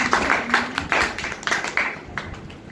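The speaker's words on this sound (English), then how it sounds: "Clapping for them." A small audience applauding after a group presentation, a loose scatter of overlapping claps over a few seconds that thins out toward the end.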